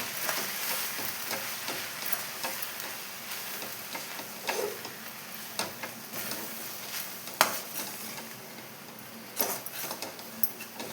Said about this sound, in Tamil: இப்போ நான் நல்லா கலந்து விட்டு போகிறேன்.